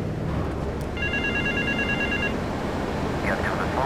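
A telephone rings in the GTA III game, a brief electronic trill burst lasting just over a second, heard over a constant noisy background wash with some talk around it.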